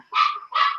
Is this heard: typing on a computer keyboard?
no